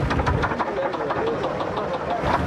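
A truck engine idles with a rough, rapid knocking from a faulty piston, a steady close clatter with low rumble and faint voices nearby.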